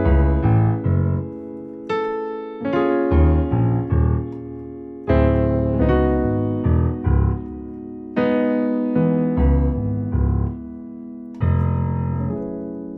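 A solo piano plays the mellow section of a song, sustained chords and bass notes struck in slow phrases with ringing decays, clear and close with no talking.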